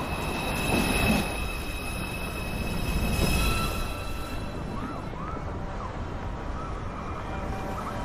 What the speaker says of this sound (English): Is a Manhattan-bound 2 train.